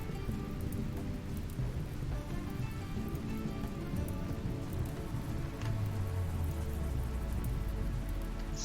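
Steady rain falling in the video game Rimworld, a dense continuous patter with a low rumble of thunder rolling in toward the end; no voices.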